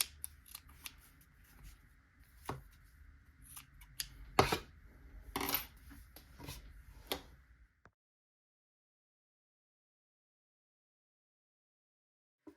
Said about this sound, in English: And then I'll trim up some of those loose strings at the end